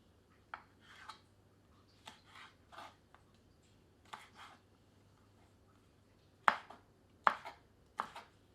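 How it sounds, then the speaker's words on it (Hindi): A knife chops flat lima beans into pieces on a board, with sparse, crisp individual cuts in an irregular rhythm, close and fairly quiet, ending with a few sharper strikes. "अब सेम को टुकड़ों में काट लेते हैं।"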